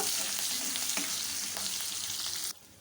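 Ginger being stirred into a sizzling tempering in a pan while cooking an elephant yam masiyal; a steady loud crackling fry with stirring scrapes, cutting off abruptly near the end.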